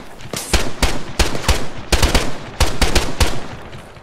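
Rapid bursts of automatic gunfire from a military shooter game, loud and close, arriving in short clustered volleys across the whole stretch with no talk.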